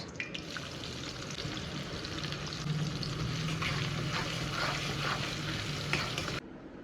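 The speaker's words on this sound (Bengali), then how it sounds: "এখন ফোড়নে দিচ্ছি গোটা গরম মশলা, তেজপাতা, শুকনো লঙ্কা, দিচ্ছি পেঁয়াজ" Whole spices, bay leaf, dried chilli and onion frying in hot oil, a dense, steady sizzle with faint stirring clinks, close and continuous until it cuts off near the end.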